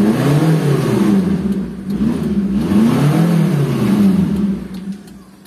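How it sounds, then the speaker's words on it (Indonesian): A car engine runs steadily and loud with rising and falling revs, close by and alone, easing off near the end. "Starter langsung jreng."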